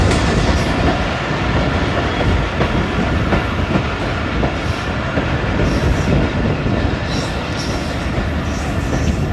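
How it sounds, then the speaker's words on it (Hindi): A passenger train rolls into the outer signal of Muzaffargarh railway station on a branch line, with a loud continuous rumble and clatter of wheels on rail running close by throughout. "आउटर पे पहुंच चुकी है हमारी ट्रेन मुजफ्फरगढ़ रेलवे स्टेशन के"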